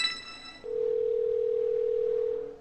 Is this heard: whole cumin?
no